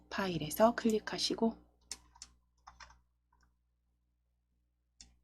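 Computer mouse clicks during slide-editing software work, a few sharp isolated ticks spaced out after a stretch of talking, with one more faint click near the end.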